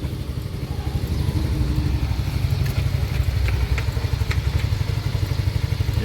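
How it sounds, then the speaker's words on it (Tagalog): A 2017 Yamaha Mio i motorcycle idling close by, a steady low pulsing putter with light clatter and crackle over it, with no voices over it. "Yan yung ating motor."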